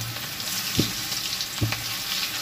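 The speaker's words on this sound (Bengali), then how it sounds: "কালো জিরে দিয়ে আমি এই পেঁয়াজ ফোড়নটা দিয়ে দেবো।" Onions with black cumin frying in hot oil, a steady close sizzle and crackle with two short stirring scrapes of the pan, no voices.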